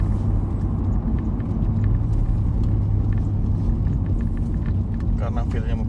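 Honda Civic FD1 sedan engine under acceleration at half throttle, a steady low rumble heard from inside the cabin while people talk over it.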